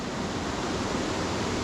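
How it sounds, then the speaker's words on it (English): Water rushes and churns between big boulders at a waterfall's rapids after heavy rain, a continuous broadband roar that is dense and steady, close by with no talk. "The water just gets forced through them,"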